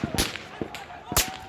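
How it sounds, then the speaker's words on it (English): Sharp gunshots crack out in a shooting where people lie wounded, about four distinct reports spaced unevenly over a second and a half, fairly loud and close, with no talk over them. "The audio of the gunfire is just constant."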